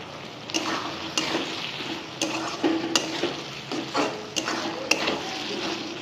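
Paneer chilli frying in a pan with tomato sauce, sharp metal spatula scrapes and stirring strokes coming every second or so over a soft, steady sizzle, close and fairly loud, with no voices.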